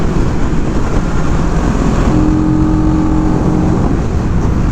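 CFMoto 700CL-X motorcycle engine while riding, a loud, steady engine drone mixed with heavy wind rush, the pitch holding fairly constant with a brief tonal rise midway.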